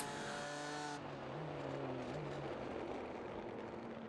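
An LMP race car in the iRacing simulation of the 24 Hours of Daytona roars past very close, a loud engine whine that drops in pitch as it goes by, leaving a steady engine drone behind.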